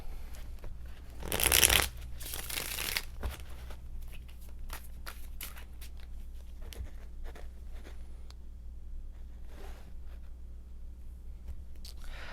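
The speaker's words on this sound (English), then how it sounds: "we're going to pull some cards to see which direction each of these energies are bringing us in our moments" Tarot cards being shuffled by hand: a loud, brisk riffle near the start, then a long series of soft, irregular slides and taps of cards close by in a quiet room.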